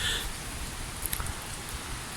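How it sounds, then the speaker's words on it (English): Steady pouring rain falls outdoors beside a youth hostel in Wales, heard as a dense, even hiss with a few faint patters of drops, with no voices. "Just popped outside in the pouring rain very briefly."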